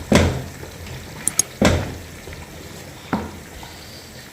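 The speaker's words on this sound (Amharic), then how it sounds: "አሁን ስጋችንን እንጨምራለን።" Meat tipped into a hot pot in a home kitchen gives a sharp burst of sizzling and clatter, repeated twice more, each burst fading into a low steady fry with a few faint clicks between.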